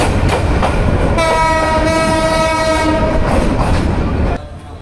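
A Nazirhat local passenger train rolls along with a steady, loud rumble and clatter, while a sustained horn blast sounds for roughly two seconds in the middle before the noise drops off near the end.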